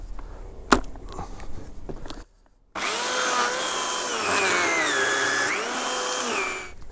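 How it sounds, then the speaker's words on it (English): A chainsaw starts after a short pause and runs loud and close, its engine note rising and falling as it cuts, with no talking over it. "thought we'd do some chainsawing to get rid of some of the aggression."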